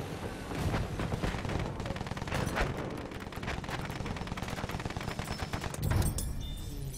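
Rapid machine gun fire rattles continuously through a Battlefield 1 video game battle, with dense overlapping bursts and heavier blasts layered in, loud and close throughout.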